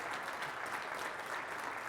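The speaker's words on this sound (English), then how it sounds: "Give them a round of applause." At a sales congress, a hall full of insurance-industry attendees applauds long-serving veterans, a dense, even wash of clapping that holds steady throughout without a break.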